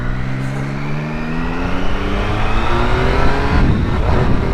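A Triumph motorcycle on Michelin Pilot 5 tyres revs and climbs through the gears, with rising engine tones and a rough blip near the end during a fumbled quick-shifter change, loud and close, with no talk.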